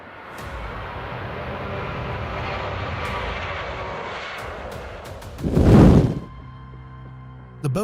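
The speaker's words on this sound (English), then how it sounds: "The Boeing 737-800 took off while the runway was wet, but fortunately, it managed to take off successfully." A Boeing 737-800 airliner taking off from a wet runway, a steady jet engine roar that swells into a loud, close surge before dropping away.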